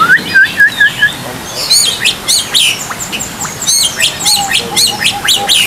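A male songbird chirps in an outdoor aviary, giving loud, close runs of sharp rising whistles and twittering phrases in repeated bursts, with a few lower calls in between.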